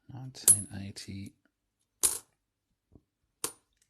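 Coins drop onto a surface one after another during a mixed coin search: a quick cluster of clinks at the start, then a few separate clinks spaced apart, fairly close, with quiet gaps between them.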